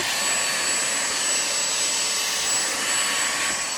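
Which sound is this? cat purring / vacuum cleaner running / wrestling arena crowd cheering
vacuum cleaner running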